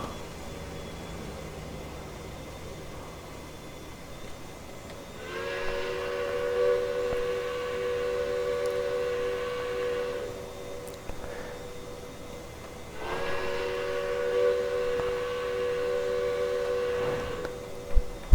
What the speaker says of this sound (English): Boy, a distant whistle sounds really, really nice.